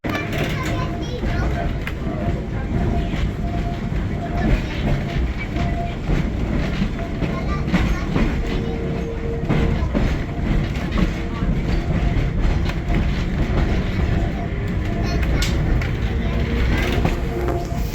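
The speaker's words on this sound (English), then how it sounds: "As we go around the middle section of the museum in the trolley" A heritage trolley rolls on museum rails at the Illinois Railway Museum on the Fourth of July, giving a steady, loud clickety-clack and rumble that runs the whole time. Faint crowd and voices are mixed in.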